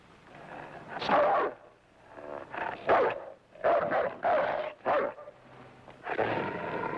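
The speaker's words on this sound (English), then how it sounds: "It's a dog." A wounded dog, recently treated for a gunshot wound, barks repeatedly in a 1948 western film scene. The loud, close, rough bursts come in an uneven series with short pauses between them.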